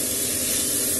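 Saag (leafy greens) frying in a pan in a home kitchen, heard as a brief, close, even hiss of sizzling steam for about a second.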